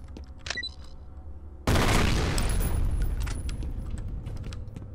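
Gunfire in the shooter F.E.A.R.: after a quiet stretch with a few small clicks, a sudden loud burst of shooting erupts and continues as a dense, rattling barrage with a ringing tail.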